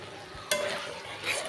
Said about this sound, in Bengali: এটা এটা আমি এখন ভালো করে কষায় নিমু